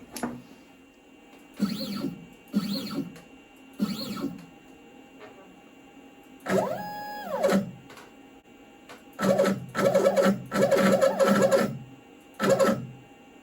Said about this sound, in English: let's just jog the machine over to this point